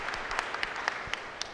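An audience at a Catholic diocesan deanery meeting claps, the applause coming as fairly soft, scattered individual claps over a low room hum rather than a thick roar.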